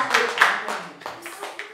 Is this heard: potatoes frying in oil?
no